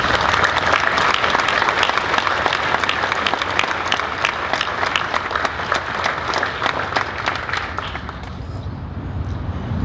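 A press conference crowd gives sustained applause, many hands clapping in a dense, continuous wash that stays loud and thins slightly toward the end.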